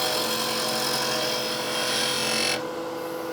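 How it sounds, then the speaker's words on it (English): A 1/2 inch skew chisel cuts figured maple spinning on a wood lathe for a box, a steady, loud, hissing shave that holds unbroken and then eases off near the end. "This case using a 1/2 inch skew might be the answer."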